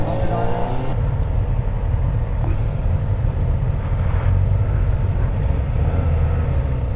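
A Kawasaki ZX-4RR sport motorcycle is ridden along, its engine a continuous, loud, low hum mixed with wind rush, steady throughout with small shifts in pitch.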